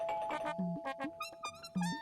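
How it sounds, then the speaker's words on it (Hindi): A doorbell rings at night with a short, bright, repeated melodic chime, sounding moderately close and clear in a quiet room, with no talk. "नहीं नहीं, सपने में नहीं, सच में कोई डोरबेल बजा रहा है।"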